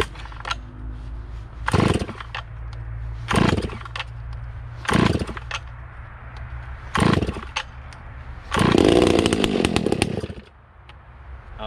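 A chainsaw sputters and catches after several pull starts, its engine bursting up in short revving surges between idling stretches, then roaring in a longer sustained rev before settling back, loud and close with no talking.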